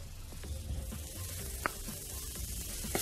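Chicken sizzles and hisses in a pan with onion and red pepper, a soft, steady frying crackle with a few sharper pops, heard close up and fairly quiet.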